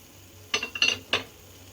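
A spoon stirs badam halwa with khoya in a pan: three short, close scraping strokes in quick succession against a quiet background.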